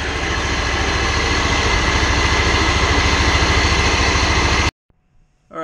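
A Ferris riding mower with a Hydro Gear transaxle runs at a steady, loud idle for about four and a half seconds with a pulsing engine drone, then cuts off abruptly, leaving near silence.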